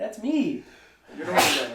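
A single sharp human sneeze bursts out close and loud, preceded by a brief spoken phrase from a man.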